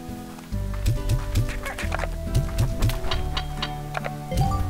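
Chickens clucking in the farming video game Slime Rancher, a series of short, clipped clucks and ticking footfall-like taps over a steady game music drone, with no talking.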